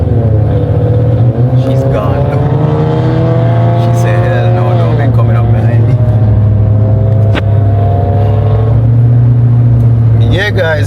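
Steady engine drone of a car on the road, a $150,000 car driving just ahead, holding a constant loud hum with shifting tones as it moves, under occasional talk.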